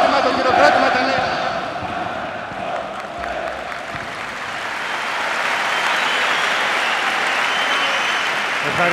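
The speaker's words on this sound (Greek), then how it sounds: "Ένα μεγάλο χειροκρότημα, το χειροκρότημα τα λέει." Sustained applause from a sizable crowd at an award ceremony, steady and full for the whole stretch, with faint voices mixed into the clapping.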